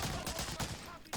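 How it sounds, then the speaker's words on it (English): Grenade going off in Medal of Honor: Allied Assault, a WWII shooter, with a rapid series of loud, close bursts and crackling debris that stop and restart in short clusters. "That's a grenade."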